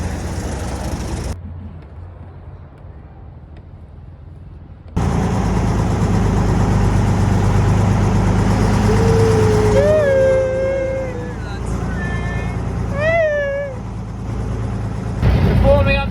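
Military convoy of artillery tractors with limbers and 25-pounder guns forming up, engines idling in a steady, loud low rumble throughout, with voices speaking over it.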